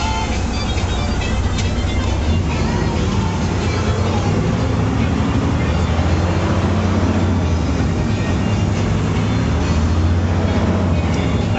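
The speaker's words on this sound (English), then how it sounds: "Take this 2000 Freightliner for a drive." A 2000 Freightliner semi truck with over 1.2 million miles, its diesel engine droning steadily while driving in low gears around a field, a continuous loud rumble with road and cab noise throughout and no speech.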